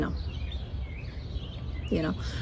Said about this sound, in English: other times just the birds and the bees and the insects